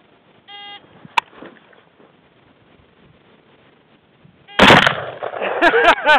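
A single gunshot from a headshot fired from a kneeling position on a timed drill, one sharp crack after a brief timer beep, followed by a louder burst of noise and clatter near the end.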